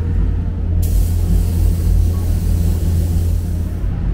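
A DeVilbiss DV1 spray gun lays down a candy paint coat with a loud, steady hiss that starts abruptly, runs for about three seconds and cuts off, over a constant low rumble.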